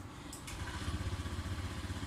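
A Honda Zoomer-X scooter's engine catches after a short starter whirr and settles into a quiet, close, puttering idle.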